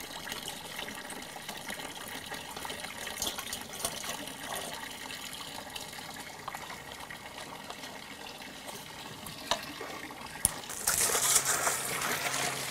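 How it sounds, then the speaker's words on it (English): Container being filled with water for mixing a soil bacteria treatment, a steady trickling stream that turns into a louder gush near the end, with no talk. "And then we'll fill it with water."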